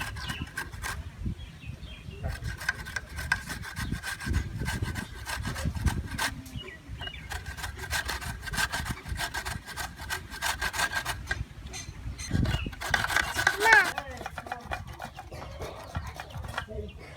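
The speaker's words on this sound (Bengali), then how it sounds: "আমার মা সরষে বেটে নিচ্ছে" Mustard seeds being ground into paste by hand, a continuous rough rhythmic rubbing and scraping close by, with a voice talking at moments.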